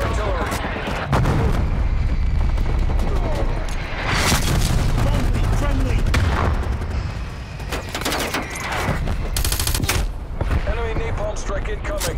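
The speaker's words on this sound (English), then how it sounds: "Incoming artillery." Artillery strike explosions in the video game Black Ops Cold War, Domination mode: a dense run of loud booms and blasts lasting throughout, layered with gunfire and game voice callouts.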